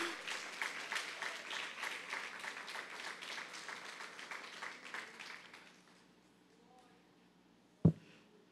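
A church congregation applauds for several seconds, a dense patter of many hands at moderate volume that fades out, leaving near silence before a single sharp knock at the end.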